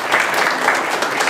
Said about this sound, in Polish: wielkie brawa dla pary młodej na zachętę